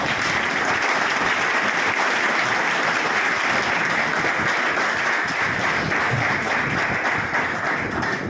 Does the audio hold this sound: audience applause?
yes